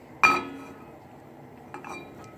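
A metal frying pan clinks sharply once against the stovetop, followed a moment later by a couple of softer knocks in a quiet kitchen.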